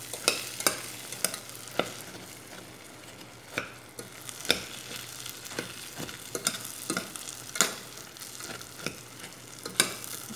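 A homemade dessert mixture stirred in a pan, soft scraping strokes repeating at an uneven pace under a faint sizzle, quiet and close with no talking.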